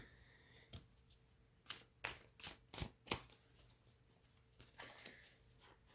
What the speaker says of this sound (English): Just shuffling the cards a little bit here.